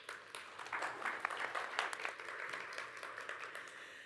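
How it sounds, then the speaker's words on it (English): Conference audience applauding a panellist at a horticulture industry gathering, a moderate, fairly subdued spread of clapping that holds steady for a few seconds without cheering. "Let's give Whitney a round of applause."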